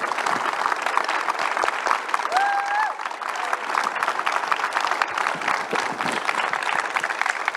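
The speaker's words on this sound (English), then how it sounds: "please give a round of applause to our panelists for joining us today" An audience at Space Center Houston claps for a mission control panel, sustained, full applause from a large crowd with a brief whistle-like tone rising over it partway through.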